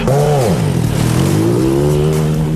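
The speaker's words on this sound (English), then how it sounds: "The midget cars race around the track that has been sprayed down with soda for traction." Midget race cars rev their engines on an indoor track sprayed with soda for traction, loud, close engine whine sweeping down and then climbing steadily as the cars accelerate.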